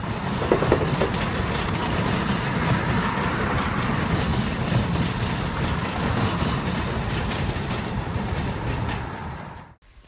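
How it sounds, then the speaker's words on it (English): An Amtrak Southwest Chief rolls out of Chicago Union Station with a continuous loud rumble and rattling clatter of railcars, heard from on board, that stays steady before dropping away abruptly at the end. "Our train departed Union Station right on time at 2:50 p.m."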